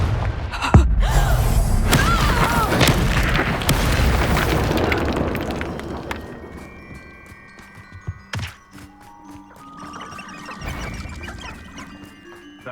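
The Confringo blasting spell goes off in the Hogwarts Legacy video game as a booming explosion with a heavy thump. A rumbling tail fades over several seconds, followed by scattered clanks and thuds.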